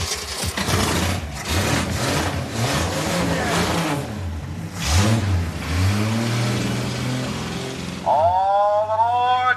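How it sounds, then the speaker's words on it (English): Makeshift railroad race cars built from scrapyard parts pull away from the station, their engines revving and rising in pitch amid loud crowd cheering and shouting, with a whooping cry near the end. "The trains are leaving the station, team."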